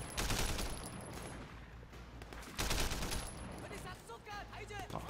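Gunfire during a firefight in the video game Sleeping Dogs, dense bursts and fusillades of shots running continuously and loudly throughout, with a voice talking over the shooting.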